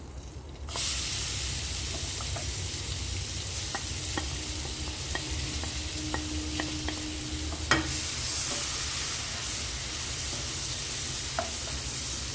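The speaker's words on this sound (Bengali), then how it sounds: "এবার পেঁয়াজগুলো দিয়ে দেবো" Onions dropped into hot oil with a little asafoetida for chana masala burst into a loud, steady sizzle that runs continuously, broken by light scattered clicks and one sharper knock of a utensil, close and without talking.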